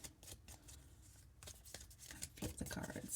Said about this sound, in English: let's just do one big shuffle